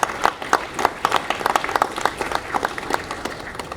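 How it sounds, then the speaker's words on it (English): Audience applause at an airport ceremony marking an inaugural flight from RDU to Paris, a dense run of many hands clapping steadily at moderate volume for several seconds, with no talk over it. "If you could give them a round of applause as well."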